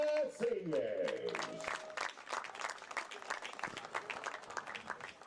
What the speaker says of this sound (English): one more round of applause for all the 2025 Bellevue Baseball Seniors